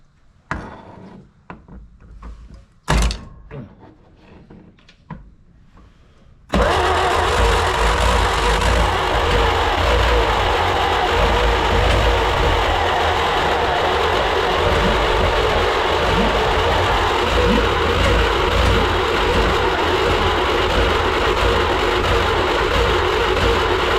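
A 1938 Dodge car engine cranking with a few sputtering attempts before catching, then settling into a loud, steady, rumbling idle that runs unbroken.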